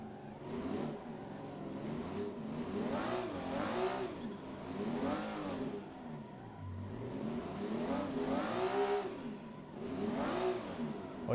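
A car engine revs and surges repeatedly while drifting in the Assetto Corsa racing sim, rising and falling in roughly two-second swells with tire-like whine, loud and continuous with no talk.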